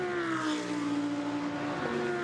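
A GT2 race car accelerates down the straight toward the Rettifilo chicane at Monza, its engine note a steady sustained drone that holds close and loud for a couple of seconds, with a slight pitch shift near the end.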